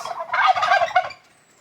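A free-range farm turkey gobbles loudly and close by, one rapid warbling burst that cuts off abruptly into quiet.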